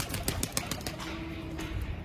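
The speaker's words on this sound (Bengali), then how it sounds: "বাচ্চা পায়রাগুলো হালকা হালকা উঠতেও শিখেছে। বন্ধুরা দেখতে ধরতে গেলাম, উড়ে গেল।" Young pigeons taking off and flapping their wings as they fly away, a burst of close, brief wing flutters in the first second over a steady background, with a faint soft coo.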